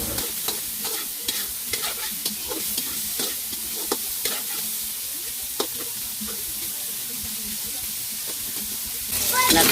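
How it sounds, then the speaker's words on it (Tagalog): Pork fat melting in a hot pan for pancit canton, giving a steady frying sizzle and hiss with scattered crackles and pops, with a louder burst of sizzling near the end. "Ito muna yung una kong taba muna ilagay ko. Para matunaw yung taba mantika,"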